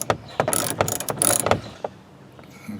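A ratchet tightens a bolt on a Ram truck side mirror that passes through plastic, producing a close burst of quick metallic clicking strokes that then fades to near silence.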